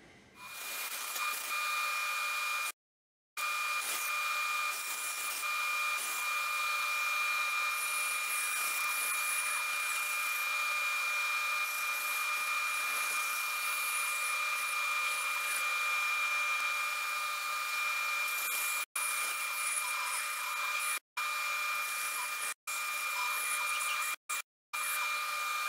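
Steady, loud whine of a power tool cutting out brass pieces for spinning wheel flyer straps, running near-continuously with a few brief stops and cutoffs toward the end, no talk.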